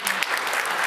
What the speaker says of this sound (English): You guys can give a round of applause.